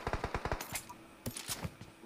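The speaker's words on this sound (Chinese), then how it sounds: "他有枪声啊！" Rapid bursts of automatic gunfire in a multiplayer shooter game, close and loud, firing in quick rhythmic volleys with brief pauses between strings of shots.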